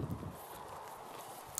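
A training horse walks loosely on soft footing, its hooves giving faint, even clip-clop steps at a relaxed pace with no talking.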